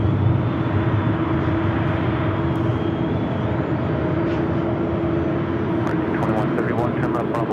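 An airliner at San Diego airport making a loud, sustained engine roar at takeoff power, a steady broadband rumble with a faint whine, as radio chatter is heard.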